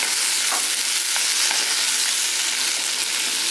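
Jackfruit seed stir fry with salt being stirred in a hot pan gives a steady, close sizzle throughout, broken by a few soft scrapes of the spoon, with no talking.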